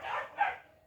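A dog barks outside at midnight: two quick, fairly loud barks close together that fade with a slight whimpering tail.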